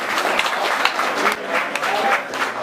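Audience applause at a battle rap event, a dense patter of many hands clapping steadily for several seconds with crowd noise mixed in.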